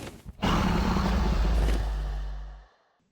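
The Ender Dragon in the Minecraft video game lets out a deep, loud roar lasting about two seconds, then fades quickly to silence.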